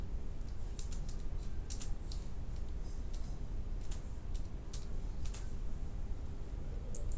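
Continuous fast typing on a computer keyboard, a steady stream of light close clicks with irregular rhythm over a constant background hiss.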